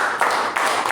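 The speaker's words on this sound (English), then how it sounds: "A round of applause to our table topic master." A Toastmasters meeting audience applauds, a brief burst of dense, steady clapping from a room of people.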